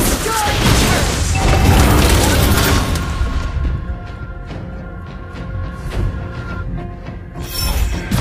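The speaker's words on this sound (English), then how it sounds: "Your team destroyed the turret!" Turret destruction in the mobile game Mobile Legends, a loud booming crash with bursts and mechanical clatter that fade into softer game effects and a tonal chime, under spoken announcements.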